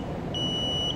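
A piezo buzzer driven by PWM from an ARM LPC2148 board beeps once, a steady high tone holding for about half a second over a low background hum.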